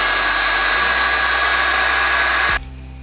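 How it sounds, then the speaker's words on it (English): A heat gun blows a loud, steady roaring hiss over the edge of a resin casting. A low hum underneath shifts partway through, then the gun cuts off abruptly near the end and leaves only quiet background. No one speaks. "we're gonna get a heat gun and just fix the edge completely"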